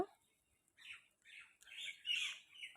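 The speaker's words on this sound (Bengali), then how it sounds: "পাখিগুলো কিচিরমিচির কিচিরমিচির করছে" Small birds chirp and twitter in short, bright bursts on an early morning outing to pick flowers, fairly close and alone, with brief gaps of quiet between calls.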